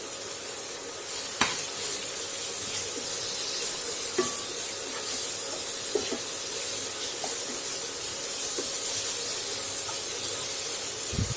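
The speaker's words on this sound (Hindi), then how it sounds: "टमाटर को हल्का सा सॉफ्ट होने तक भूनेंगे।" Tomatoes with salt sizzle and fry in a pan, a steady close hiss broken by a few soft stirring clicks and taps, with no one talking.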